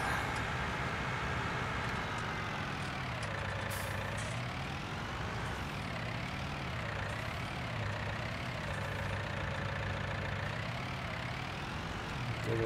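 Tractor engine in Farming Simulator 19, a continuous droning rumble whose pitch rises and dips in slow waves as revs change, steady and fairly close with no talking.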